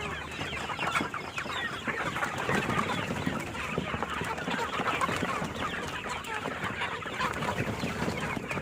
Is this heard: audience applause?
no